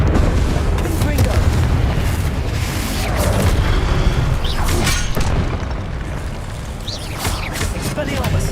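Blasting Confringo spells in a Hogwarts Legacy duel give heavy, continuous explosive booms and rumbling, with sharp bursts scattered through a dense, loud battle mix.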